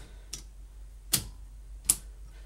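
IBM Selectric typewriter mechanism being cycled and rotated by hand, three isolated sharp metallic clacks spaced about a second apart over a quiet background.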